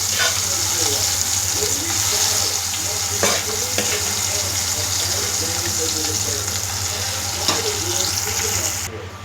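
Palli chutney poured into a hot tempering in a pan, giving a steady bright sizzle with scraping stir strokes now and then, close and continuous until it cuts off at the end.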